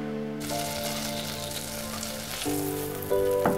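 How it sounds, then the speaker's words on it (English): Butter melting in a pan for a roux, with a steady close sizzle running under a humming tonal background. "Melt the butter."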